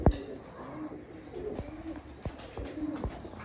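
Pigeons coo softly nearby in a loft, low repeated murmuring calls over a quiet background with a few brief knocks.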